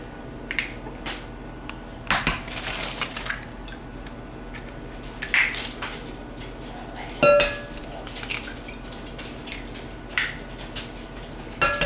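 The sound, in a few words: mixing eggs in a bowl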